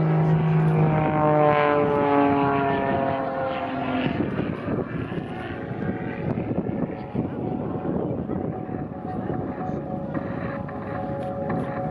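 An aerobatic propeller aircraft at the 2019 Southport Airshow, its engine sweeping past loudly with falling pitch and then settling into a broad, wind-buffeted roar. A commentator speaks over the engine.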